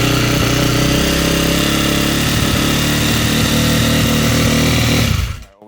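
A rebuilt KTM 350XCF dirt bike's four-stroke engine running close and loud at a steady, fast idle, then cutting off abruptly near the end.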